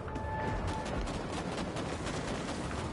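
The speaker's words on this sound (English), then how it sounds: "I hear gunshots" Gunfire in the video game Bloodhunt, a rapid, dense burst of shots that fills the whole stretch at steady loudness, with no speech over it.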